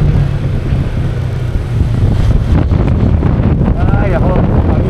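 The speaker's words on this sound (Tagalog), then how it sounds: "Ang hirap ng hangin dito, ang lakas." Strong wind buffets the microphone at a cold-weather campsite, loud low-pitched roaring gusts that stay continuous throughout, with a brief faint voice-like sound near the end.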